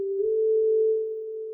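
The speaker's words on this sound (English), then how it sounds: "And we have a pretty cool lead sound." A sine synth lead with reverb, EQ and delay holds one pure steady tone for over a second, clean and isolated, fading slightly at the end.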